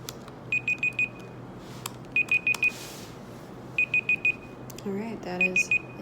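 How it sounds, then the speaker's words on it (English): A digital timer alarm goes off after a 20-minute writing session, sounding clear repeated bursts of four quick high beeps, with a voice briefly heard near the end. "All right, I have my timer here for 20 minutes."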